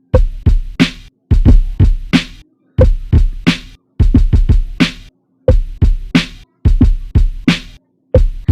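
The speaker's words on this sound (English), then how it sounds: "So that was the kick and the snare I just recorded." Kick and snare drum samples triggered from an MPD218 pad controller at about 90 BPM. The pattern is a steady, repeating beat of punchy kicks and sharp snare hits, heard close and alone with no talking.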